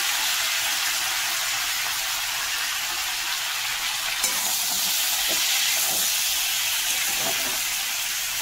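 Vegetables for chorchori hit hot oil spiced with panch phoron, bay leaf and dried red chillies, giving a loud, steady sizzling hiss with faint stirring and scraping in the pan.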